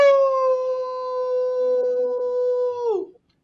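A person imitates a long wolf howl, one sustained, steady, loud tone held close for nearly three seconds before sliding down and fading out, with no talking over it.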